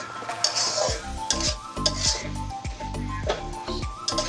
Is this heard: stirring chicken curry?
yes